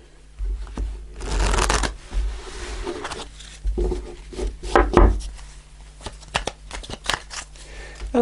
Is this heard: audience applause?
no